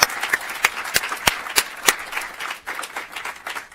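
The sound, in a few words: audience applause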